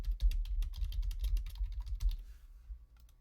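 Someone types a short sentence on a computer keyboard: a quick run of close, crisp key clicks in an uneven rhythm, thinning out toward the end.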